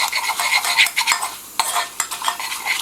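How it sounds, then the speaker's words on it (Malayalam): Spice powders for moru curry are stirred in a hot pan, with continuous scraping strokes over a bright sizzle, close and loud with short pauses between stirs. "ഇതെല്ലാം കൂടി ഇട്ടതിന് ശേഷം നന്നായി അങ്ങ് മിക്സ് ചെയ്ത് കൊടുക്കാം"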